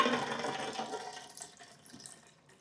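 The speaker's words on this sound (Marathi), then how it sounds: "आता या भिजवलेल्या डाळींमधलं पाणी पूर्ण उपसून काढूयात." Water drained from soaked lentils pours and splashes briefly, then trickles off into faint drips, close by and fading over a couple of seconds.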